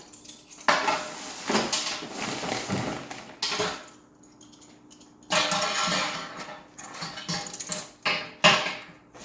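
A metal clamp is opened and fitted onto a port of a Unibräu Premium brew system, giving several close clanks, scrapes and rattles of metal in separate bursts with short quiet gaps between.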